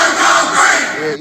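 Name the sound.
angry crowd shouting as it rushes a riot squad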